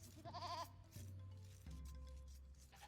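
A goat in a strategy video game lets out a few wavering bleats one after another, each rising and falling in a quivering tone, clear and close with no voices.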